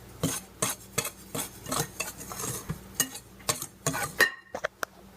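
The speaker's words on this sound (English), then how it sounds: "So I whisk that together." Gluten-free pancake batter made with duck eggs being whisked in a bowl, producing rapid, irregular clinks and scrapes of the utensil against the dish at close range, with no talking.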